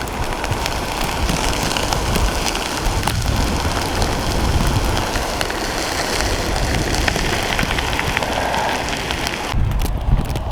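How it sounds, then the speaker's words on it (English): A winter storm with wind and wet snow makes a loud, continuous broadband roar and hiss, close and unbroken from start to end, with no one speaking. "the wind is picking up, and I think the snow is picking up too"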